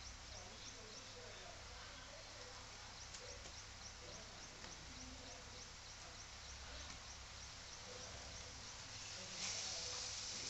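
Ground spice paste sautéing in a pan for vada pav filling, a steady soft sizzle and crackle that runs the whole time under someone talking, ending in a brief brighter hiss.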